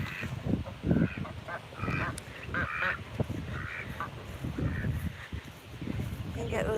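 Farm turkeys give repeated honking, gobbling calls as they are chased around a rural South Dakota yard, the burst-like calls overlapping with people talking nearby.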